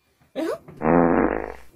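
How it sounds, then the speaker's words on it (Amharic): A single loud, buzzy fart from a person, close up. It comes after a brief rasping lead-in and stretches into a sustained vibrating blast of about a second. "ፈስ ይሸታል"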